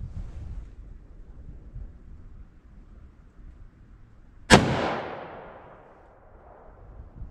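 A single loud, sharp gunshot from a short-barrel handgun firing a 125 grain full-house Magnum Gold Dot round into wood, rising from quiet outdoor wind noise and fading into a long echoing tail.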